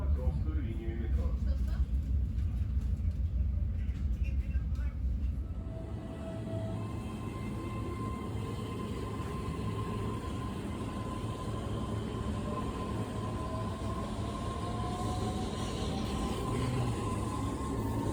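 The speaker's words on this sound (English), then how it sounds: "The train leaves on." A Moscow metro train rumbles loudly nearby at Tushinskaya station, then pulls away with a rising electric whine as the motors wind up and the rumble steadies.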